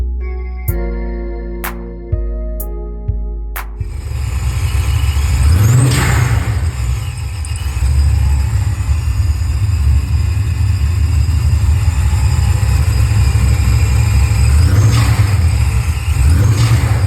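A supercharged box Chevy sits close by, preceded by a few sharp electronic tones, then the engine fires into a loud, steady rumbling idle with periodic revs swelling and falling back.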